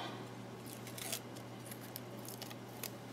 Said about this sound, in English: And I'm just going to peel the backing off.